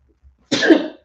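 One person sneezes once, a short, loud burst heard close up against near silence.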